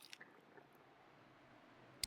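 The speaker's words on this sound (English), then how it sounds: "Let's go ahead and chow down on this meat" Brief faint squishy chewing of meat in The Long Dark survival game, a few wet bites near the start and then a near-silent stretch, with a sharp click at the very end.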